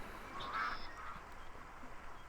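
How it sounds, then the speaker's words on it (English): Ducks quack faintly in the distance, a short burst of nasal honking calls over low background hiss. "We've just been listening to the ASMR of the ducks."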